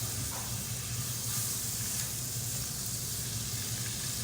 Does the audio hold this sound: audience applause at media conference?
no